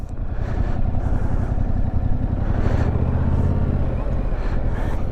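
A motorcycle rolling slowly and steadily around a course of cones, its engine a low, even rumble that holds close and constant throughout.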